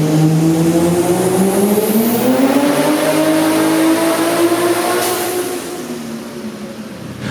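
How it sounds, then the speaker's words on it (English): Barra-powered Holden Cresta on a dyno at Summernats with about 45 to 50 psi of boost, the engine loud and close, revving steadily upward as the pitch climbs, then easing off toward the end. "Up next on the dyno, we've got Benny and the Barra-powered Cresta"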